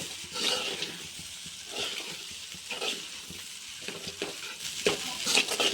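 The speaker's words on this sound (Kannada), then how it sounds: "ಈಗ ಇದನ್ನು ಕೂಡ ಚೆನ್ನಾಗಿ ಮಿಕ್ಸ್ ಮಾಡ್ಕೊಳ್ಳೋಣ ಎಲ್ಲ ಕಡೆ." Poha (flattened rice) with coriander being stirred and mixed in a frying pan, with a steady sizzle and repeated scraping strokes of a spoon across the pan, close and fairly loud, with no talking.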